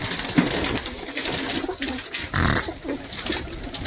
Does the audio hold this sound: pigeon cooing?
yes